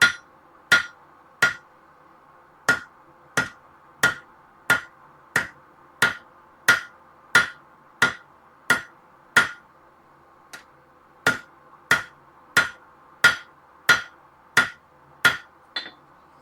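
Hammer blows on the flat of an anvil straighten metal, about twenty sharp, ringing strikes at a steady, slightly uneven pace, close and loud over a quiet background hum.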